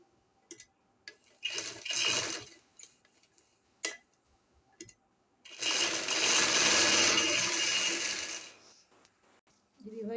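A sewing machine stitches lace onto a dupatta, running in close, loud whirring bursts between quiet pauses, with one long stretch of steady stitching and scattered clicks in the gaps.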